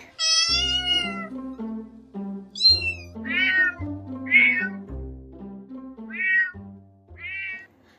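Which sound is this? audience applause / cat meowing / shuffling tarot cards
cat meowing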